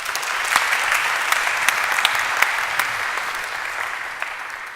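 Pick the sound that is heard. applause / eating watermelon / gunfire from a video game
applause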